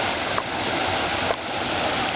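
Swollen natural brook carrying storm water, rushing in a steady, broadband wash that stays constant with no pauses or breaks.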